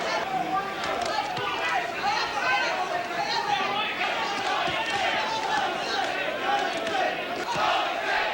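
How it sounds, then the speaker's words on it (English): Boxing arena crowd during a Mike Tyson fight, a dense roar of many voices rising and falling in a chant-like swell, with thuds and shouts mixed in throughout. "Crowd taking up a chant of Jose."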